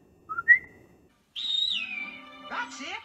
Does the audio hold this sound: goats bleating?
no